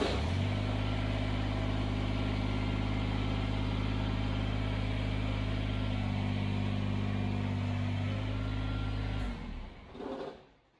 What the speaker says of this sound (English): I'm going to turn the tractor on